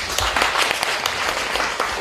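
Audience at a sci-fi adaptation forum gives steady, even applause, a moderately loud wash of clapping throughout.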